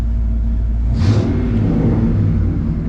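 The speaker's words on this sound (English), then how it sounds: "I just wanted to get this truck running" A 1994 Ford F-150 4x4 pickup's engine idles with a low, steady rumble, close by, with a brief burst of hiss partway through.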